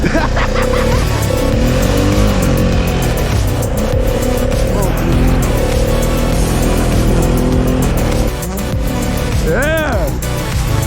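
Honda TRX 500 quad engine roars loud and close with its throttle stuck open, revving high and steady with pitch swings, while people shout over it.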